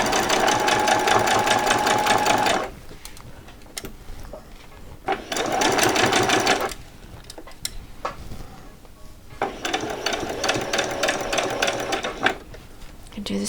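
Sewing machine stitching a quarter-inch seam in fabric for Christmas pyjamas, running in three loud sustained bursts with quieter pauses between as the fabric is repositioned.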